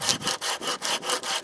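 Bahco Laplander 396-LAP folding hand saw cutting wood outdoors at a country house, about seven rapid rhythmic rasping strokes, close and loud, with no talking.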